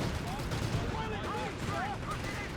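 Sustained battlefield gunfire from a Company of Heroes 3 match, a steady wash of rifle and machine-gun fire with faint distant bursts, heard without speech.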